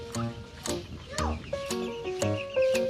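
A hatch batch of chicks peeps in short, high, thin chirps scattered through the moment, close and fairly quiet, while someone talks over them.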